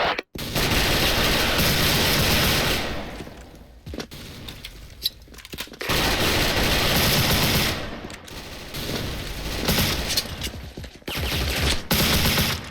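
Bursts of rapid automatic gunfire from an MP5 submachine gun in the game SF, long sustained volleys separated by short pauses, loud and close.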